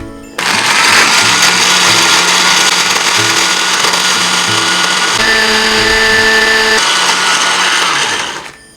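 Electric grinder whirring loudly at high speed as it pulverizes whole biryani masala spices, a continuous close roar holding for several seconds before winding down at the end, with no speech.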